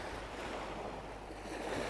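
Ocean surf at Tien Beach on Koh Larn washes in a steady, broad hiss with gusts of wind buffeting the microphone, continuous and fairly even throughout with no voices.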